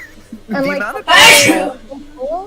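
One loud, sharp human sneeze bursts out between stretches of conversational talk, close and distinct.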